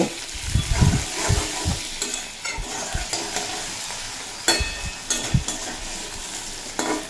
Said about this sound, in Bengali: টমেটোটা নরম হয়ে যাওয়া পর্যন্ত রান্না করে নেব